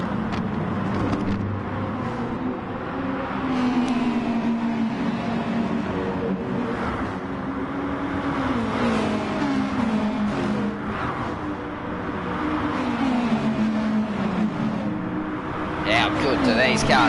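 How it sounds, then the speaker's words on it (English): Racing car engines in a video game roar and shift pitch as several cars run together, with a commentator talking over the top throughout. "These cars sound fantastic."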